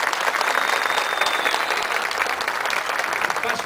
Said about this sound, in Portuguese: merece uma verdadeira salva de palmas esse grupo maravilhoso